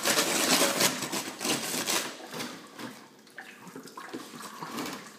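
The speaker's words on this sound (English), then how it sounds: "I have a hose. Just adding some water." Water runs from a hose into a bucket in a garage during a gold concentrate cleanup, a steady close rushing splash that holds for several seconds and eases slightly toward the end, with no talking.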